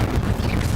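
Incendio fire spell cast in Hogwarts Legacy, a short, loud, dense burst of roaring crackle that fills the whole moment with no voice over it.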